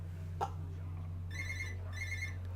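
A telephone rings twice in short electronic bursts, fairly quiet against a steady low hum, with a brief cough-like sound just before the first ring.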